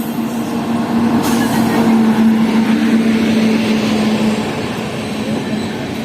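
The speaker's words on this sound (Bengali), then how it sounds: "তো ফাইনালি আমাদের ট্রেন ঢুকে পড়লো দুর্গাপুর রেলওয়ে স্টেশন।" The Ajmer Sealdah superfast express pulls into Durgapur railway station with a loud, steady rumble of wheels and carriages close by, while a sustained tonal squeal or hum runs for several seconds before fading.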